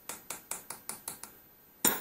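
A hammer strikes a punch on a Land Rover Adwest steering box during stripping, seven sharp metallic taps at an even rhythm, then a louder clattering hit.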